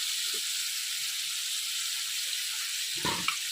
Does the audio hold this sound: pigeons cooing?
no